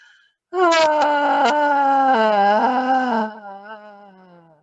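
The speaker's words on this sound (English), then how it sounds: "And the next one is even a little more with maybe a whimper to it." During a guided breathing exercise, a person lets out a loud, drawn-out whimpering moan on an exhale, about three seconds long, wavering in pitch before trailing off into a faint breath.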